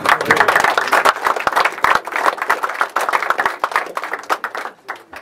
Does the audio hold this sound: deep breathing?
no